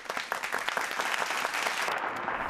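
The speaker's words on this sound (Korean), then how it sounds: "허풍선이 극장의 훌륭한 무대 감독 머독에게 박수 부탁드려요" Theater audience clapping for a stage director at a children's science show, a brisk burst of many hands applauding, loud at first and thinning slightly toward the end.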